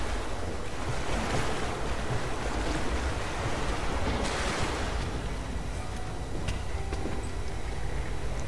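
A boat moving through water in the game Rise of the Tomb Raider, a constant rushing wash of water and wind with no break and no voices.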